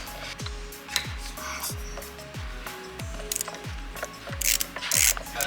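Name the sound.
ratchet undoing bolts on cam follower housing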